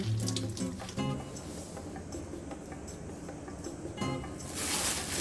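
Seaweed being rinsed clean and drained for a cold seaweed soup, with steady running and splashing water throughout, brief clattering handling sounds near the start and around four seconds, and a louder rush of water at the end.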